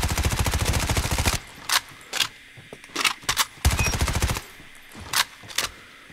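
Hip-fire from a gun in Call of Duty Mobile: a long rapid-fire burst of shots, then a string of shorter, separated bursts with quiet gaps between them, loud and close.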